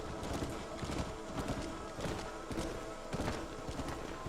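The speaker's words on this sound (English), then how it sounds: "I've just split up this group of horses into two" A group of horses in the Red Dead Redemption video game hammers out continuous rapid hoofbeats, a dense, fairly faint galloping clatter with no pause for the whole stretch.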